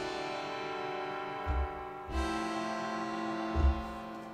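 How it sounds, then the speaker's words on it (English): A detuned synth pad played in Kontakt sustains steadily throughout, a rich layered drone with a few soft low swells and no voices. "there's this detuned pad. It sounds something like this."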